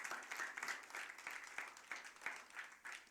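Faint, distant applause from a church congregation, a soft steady patter of many hands clapping with a rhythmic pulse.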